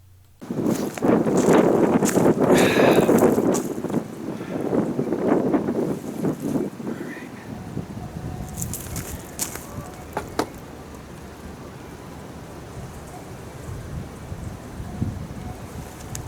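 Wind blows outdoors at a fence-building site, buffeting the microphone in a loud roaring rush for the first several seconds before easing into a steadier, quieter whoosh with occasional gusts.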